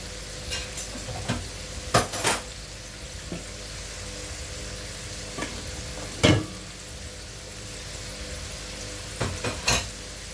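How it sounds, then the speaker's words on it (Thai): Rice with Chinese sausage and other ingredients being stir-fried in a pan: a soft continuous sizzle broken by scattered scraping and clanking strokes of the spatula against the pan, fairly quiet, with no voices. "ผัดไปอย่างเงี้ยจ้ะเพื่อน ๆผัดจนว่าของทุกอย่างจะเข้ากันอ่ะเพื่อนๆ"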